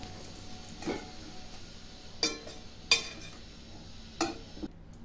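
A spoon scrapes and knocks against a pan while pumpkin leaf vegetable is stirred and mixed, giving a few soft separate clinks over a faint, quiet background.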